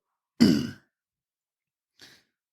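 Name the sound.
throat clearing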